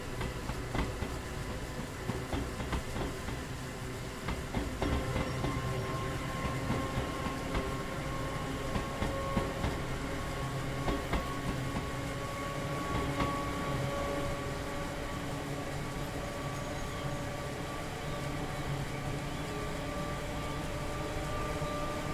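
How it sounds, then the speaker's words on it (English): A train in the Train Sim World 3 video game rumbles steadily at low volume for over twenty seconds, with a faint clickety-clack and broadband rolling noise and no voices. "I hear the train coming, it's coming around the bend with the thunder."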